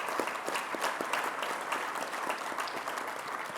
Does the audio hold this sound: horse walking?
no